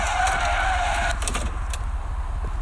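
Simulated GAZ-24 car in Soviet Car Simulator leaving the road: a steady, loud engine drone with rough rumbling and skidding noise, then brief thuds and clatter near the end, with no talk over it.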